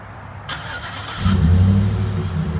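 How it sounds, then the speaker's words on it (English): A lifted 2011 Chevrolet Silverado 1500 LT 4x4 truck starts up with a short starter whir, then the engine catches and settles into a loud, deep, close rumble. "I'm going to start this up for you guys"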